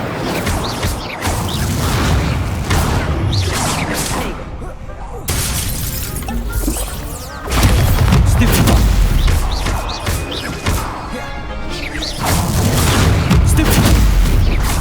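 Spells crackle and burst in Hogwarts Legacy, with repeated loud booms and shattering impacts in quick succession, layered over game effects and speech.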